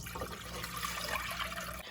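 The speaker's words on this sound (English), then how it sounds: "First, we're gonna add 5 cups of water" Water pours steadily into a pot of rinsed yellow split peas, a short continuous splashing rush close by with no talking.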